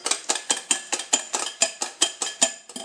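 Butterscotch cake ingredients mixed in a bowl, a steady rhythmic run of about a dozen sharp clinks of utensil against bowl, close and clear, with no talking.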